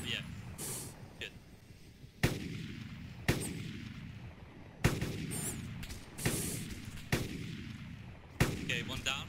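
Gunfire in the DayZ mod video game, a series of sharp loud shots spaced a second or two apart, each followed by a rumbling tail, under continuous background noise.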